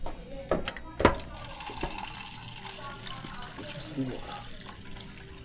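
Hot water from a coffee machine runs into a cup, a soft trickling pour beneath a person's talking, with a couple of sharp knocks near the start.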